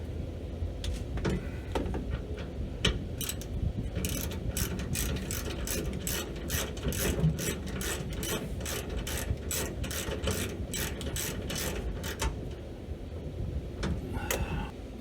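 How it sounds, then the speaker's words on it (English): A ratchet tightens bolts on a car's EVAP system vacuum pump, giving long runs of rapid, sharp clicking bursts close up over a steady low background hum, with short pauses between strokes. "Let's tighten this thing down."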